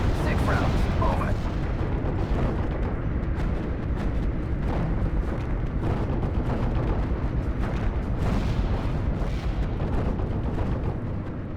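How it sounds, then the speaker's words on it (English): Artillery barrages in the WWII strategy game Steel Division: Normandy 44, a dense run of heavy booms and rumbling blasts rolling on without pause, with a voice talking over the bombardment. "I think I'm just gonna keep up the artillery fire and let the armor roll forward"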